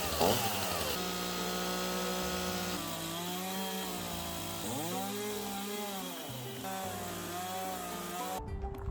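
A chainsaw cuts a wooden log in a small workshop, a steady harmonic engine whine that rises and falls in pitch as the load changes, continuous and moderately loud.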